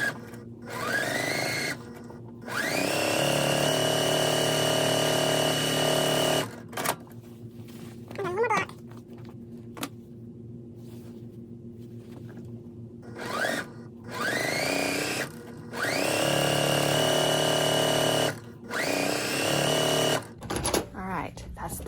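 A sewing machine stitches quilt blocks together in bursts of steady whirring, running twice at length with pauses between, while a person talks quietly in the gaps.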